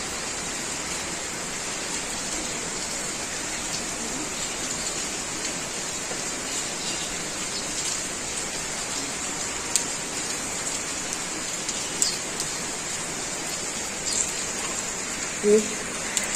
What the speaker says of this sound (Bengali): টাপুর টুপু করে বৃষ্টির আওয়াজ হচ্ছে, পুকুরে পড়ছে বৃষ্টিগুলো, বৃষ্টির জল।